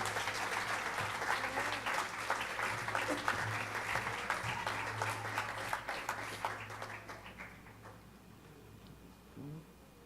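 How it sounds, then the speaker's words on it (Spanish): A church congregation at a Good Friday service applauds for the Lord, a dense wash of clapping heard from some distance over a low hum, gradually fading toward the end. "Déselo fuerte el aplauso al Señor"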